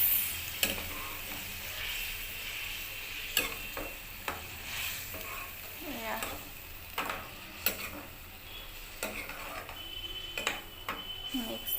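Utensil scraping and clinking in a pan of fish and mosondori leaves at an irregular rhythm over a soft sizzle, with occasional faint talk.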